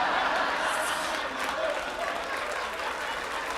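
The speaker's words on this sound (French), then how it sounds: "Fait qu'on applaudit Carl Gosselin qui a sauvé le numéro" A comedy show audience claps and cheers for a stand-up comedian's act, the applause loudest at the start and easing slightly while staying steady, with scattered chuckles mixed in.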